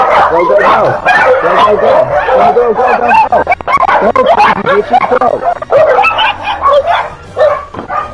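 Several dogs bark, yip and whimper excitedly in a loud, chaotic, continuous burst close by, with people talking over them.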